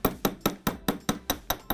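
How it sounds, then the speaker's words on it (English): Chasing hammer striking a metal earring leaf on a steel bench block, nine sharp, evenly spaced taps about a fifth of a second apart, close and clear with no talk. "you're gonna take your bench block and your chasing hammer"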